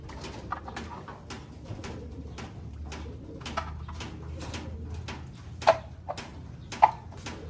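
Pigeons coo softly and repeatedly in a loft, with a few sharper clicks and flutters standing out among the steady rhythmic calls; no voices are heard.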